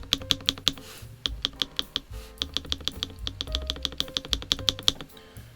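Typing on a NuPhy Halo96 wireless 96% mechanical keyboard: crisp, close key clacks in quick irregular bursts with a few short pauses and deeper thocks mixed in, no talking.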